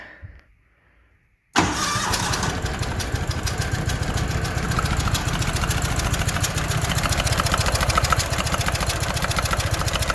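A Walker lawn mower's small engine sputters to life after a quiet start, then runs steadily with a loud, rough, rapid putter with a possible exhaust leak, idling near the listener.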